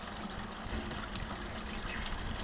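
Running water pours and trickles steadily over salmon fillets as salt and sugar from a dry brine are rinsed off, a continuous close splashing stream with no talking.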